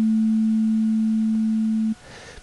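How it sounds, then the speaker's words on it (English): A pure synthesizer sine wave, one of the basic oscillator waveforms, holds a single steady tone for about two seconds at even loudness, then cuts off abruptly into quiet room noise. "and the sine wave,"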